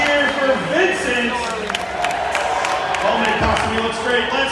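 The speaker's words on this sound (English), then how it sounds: "Let me hear you cheer for Vincent" A crowd cheers at a Star Wars Day costume contest during a minor-league baseball game, a loud, sustained roar of voices and clapping that fills the space, with whoops rising over it.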